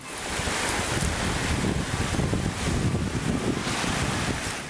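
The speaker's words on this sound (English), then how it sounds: "This once spacious street has turned into the channel of a mud flow." A mud flow rushes down a once spacious street as a loud, continuous, churning roar that stays close and unbroken throughout.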